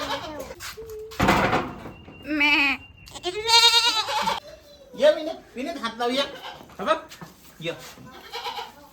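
Goats bleat repeatedly nearby, several wavering calls overlapping, while people talk and laugh around them.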